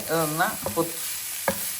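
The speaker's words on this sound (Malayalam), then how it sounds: "ഇതെല്ലാം കൂടെ ഒന്ന് മിക്സ് ചെയ്ത് ഒന്ന് ആവി കയറി വരട്ടെ" Mixed ingredients are stirred and fried in a pan, a few sharp scrapes and knocks of the spoon over a soft background sizzle, with a brief squeaky tone at the start.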